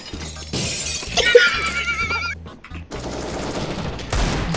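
Gunfire in the video game Counter-Siege: Battlegrounds, heard as several loud broadband bursts mixed with glassy shattering and a horse-like whinny, alone without speech.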